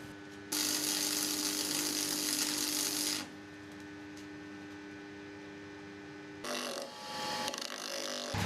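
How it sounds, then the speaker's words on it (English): A disc is welded onto the spindle of an old vice, heard as two bursts of loud, steady crackling buzz, one long and one shorter, over a constant electrical hum. "And welding the disc to the spindle."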